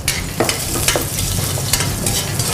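Onion, ginger and bay leaf sauté in a hot pan, giving a steady close sizzle and crackle with a few stirring scrapes throughout, no talking.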